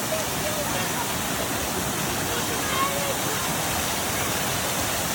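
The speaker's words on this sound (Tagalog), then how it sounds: "Ito yung falls sa Sea of Galilee." A man-made waterfall at the Sea of Galilee pours in a steady, dense rush of falling water, loud and close, with a constant broadband roar that never lets up.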